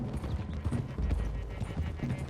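Horse hooves clip-clop steadily in Red Dead Redemption 2, a dense, continuous clatter of several horses close by with a brief whinny-like tone, over background game noise and no talking.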